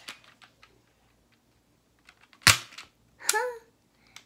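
A Nerf blaster fires a dart at close range, a sharp snap followed by a brief rattling clatter, with soft clicks and handling noises before and after in an otherwise quiet room.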